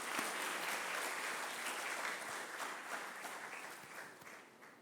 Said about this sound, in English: They also deserve a big round of applause.